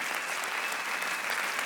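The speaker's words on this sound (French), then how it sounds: "Et merci à Franck que je vous demande d'applaudir bien fort." Studio audience applause on a French TV hidden-camera show, a steady dense clapping wash from a large crowd, fairly loud and even throughout with no talk over it.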